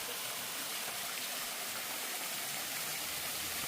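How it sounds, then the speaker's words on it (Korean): Steady rushing water pours over stacked stones, a constant broad hiss of a small artificial waterfall with no other sounds. "돌을 쌓아 가지고 폭포가 흐르도록 만들어 놨네요"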